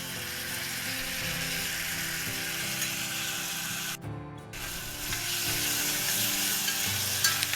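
Ginger garlic paste sizzles steadily in a pan with golden brown onions, a loud, close, continuous frying hiss with a brief break where it is stirred, then more sizzling.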